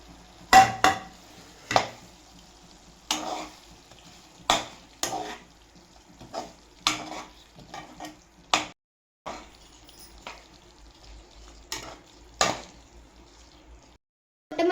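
Chicken pieces and ground masala paste stir-frying in a pan for a chicken gravy, with a steady low sizzle broken by repeated scraping and clinking strokes of a spoon against the pot, close and fairly loud.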